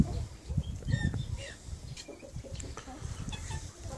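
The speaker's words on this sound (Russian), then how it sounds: "Петушков у меня здесь больше, чем достаточно." Hunting pheasants in a breeding aviary, a flock of cocks and hens giving scattered clucks and calls at close to mid range, with a voice speaking intermittently among them.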